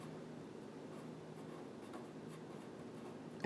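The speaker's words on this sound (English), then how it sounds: "let me write it out here." Pen or marker writing out a word during a real-number calculus lesson, a close, continuous scratching of strokes with short pauses and a small tap at the end.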